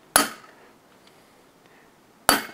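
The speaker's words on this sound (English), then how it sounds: "That's why I like using the punch here" Hammer striking a punch set into a broken head bolt on a five-cylinder engine block: two sharp, loud metallic blows about two seconds apart, each ringing briefly before fading into quiet.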